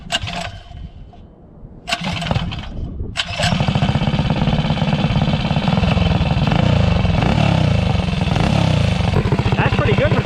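A 223 stroker engine fitted with a 28mm PWK carburetor cranks with a couple of short tries, then fires and settles into a loud, steady, close idle.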